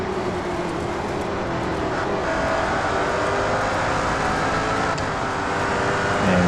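A Ford Falcon FG X race car engine in Real Racing 3 at Mount Panorama, a loud sustained roar holding steady on a final lap, swelling slightly at the end, with no talk.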